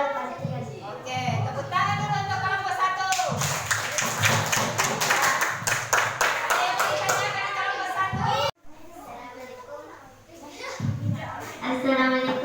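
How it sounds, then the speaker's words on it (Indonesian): A classroom of children applauds a student group after their presentation, the clapping dense and sustained for several seconds, then a pause before another short burst, with children's voices chattering throughout. "Oke, tepuk tangan dulu untuk kelompok 1."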